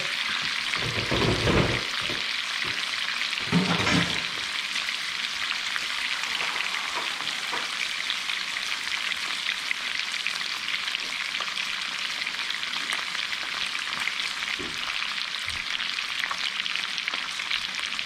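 Octopus frying in lemon garlic butter with hot chilies, a loud continuous sizzle and crackle up close, with a couple of heavier stirring bursts near the start, and no voices.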